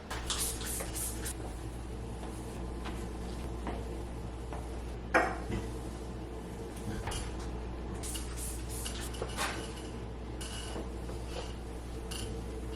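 Dishes, pots and cutlery clatter and clink steadily under running water at a kitchen sink, with one louder knock partway through and constant splashing throughout.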